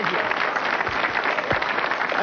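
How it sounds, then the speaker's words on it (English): A studio audience at a television talk show claps in a steady wash of applause, loud and filling throughout, with no voice standing out above it. "There's a guy in the front row applauding."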